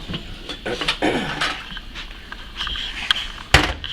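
Metal pot of tomatoes in water set back onto a kitchen stove, with several clattering knocks and scrapes of cookware and a sharp clank near the end, no talking.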